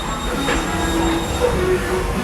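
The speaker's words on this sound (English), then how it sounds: "This is still Fantasyland Station. We're departing." Steam train at Disney's Magic Kingdom pulling out of Fantasyland Station, with rumbling wheels on rails and a few thin metallic squeals over a steady low rolling noise.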